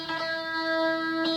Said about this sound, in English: The next pickup along sounds a little bit more mellow.